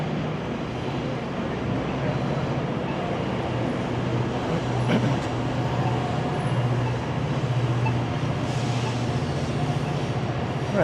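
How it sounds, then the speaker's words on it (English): A GO commuter train passes by on Front Street in Toronto, a constant broad rumble and roar that stays loud throughout, heard from a nearby walkway among city noise. "You can hear another train going past,"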